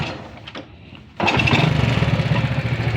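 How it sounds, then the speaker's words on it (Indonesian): Honda C70 motorcycle engine starting: a quiet lead-in, then the engine catches abruptly and settles into a close, steady, puttering idle. "langsung aja kita cek suara mesinnya"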